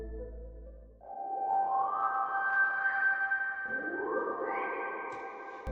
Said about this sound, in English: it is basically a Prophet 6 patch with a resonance on it